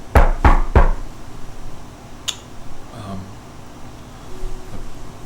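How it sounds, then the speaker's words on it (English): Impatient knocking on a door: three quick, loud, sharp raps in a fast, even burst at the start, followed by a quiet room tone with only faint, scattered background noises. "They just keep knocking over and over."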